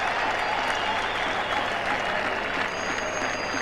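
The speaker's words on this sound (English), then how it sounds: "Great cheer goes up around the ground." Steady, dense applause and cheering from the crowd around a cricket ground during a 1996 World Cup match between England and Holland, sustained and fairly distant-sounding, with a faint voice at times.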